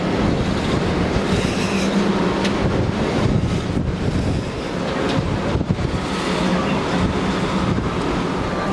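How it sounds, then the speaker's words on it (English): Wind gusting across the open upper deck of the Norwegian Prima cruise ship, a steady broadband rush buffeting the microphone throughout, with faint background activity and no clear talk. "I guess it's too windy."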